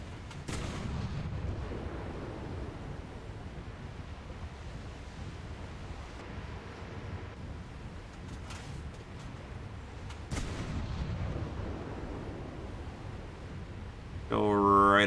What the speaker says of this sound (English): we'll make a barrage on the destroyer